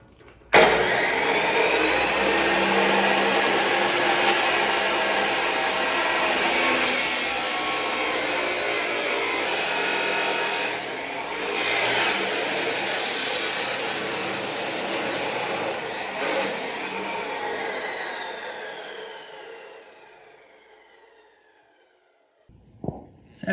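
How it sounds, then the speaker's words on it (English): A power saw cuts a 45-degree angle in a metal pipe for a V8 go-kart engine mount, a loud continuous grinding whine lasting about twenty seconds, briefly dipping midway, then winding down. "We're gonna cut a 45 in this piece I just cut off."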